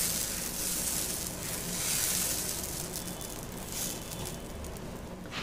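Dosa batter cooking on a hot griddle for village-style kalathu dosa, giving a steady, close sizzle and hiss that swells and eases slightly, with no talking over it.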